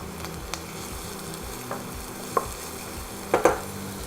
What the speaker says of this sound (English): we're gently just going to cook the onions just for a minute, just to get them softened